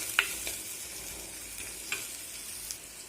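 Onions and curry leaves sauté in a pan for dried fish curry, with a steady close sizzle and scattered light taps and scrapes from a stirring spoon, no voices present.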